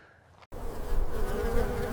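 Bees buzzing close by around grapevine flowers in a desert vineyard, a steady droning hum that starts abruptly after a brief quiet moment and continues without pause.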